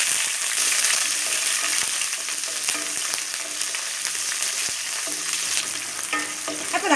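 Chopped garlic and five or six small onions fry in a pan for a brinjal curry, giving a steady, close sizzle with occasional stirring scrapes and no talking.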